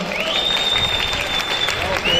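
Sustained applause from a crowd at the Kırkpınar wrestling ağalık auction in Turkey, steady and full throughout, with an amplified voice talking over it.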